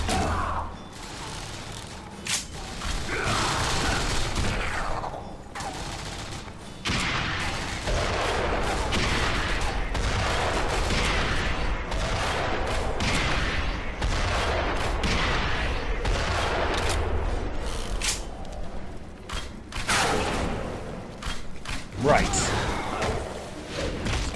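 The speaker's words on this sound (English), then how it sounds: "Who's shooting at me?" A sustained, dense barrage of gunfire from the action game Hellboy: The Science of Evil, with overlapping shots and mechanical clatter running almost unbroken for over twenty seconds, loud and mixed under a person talking.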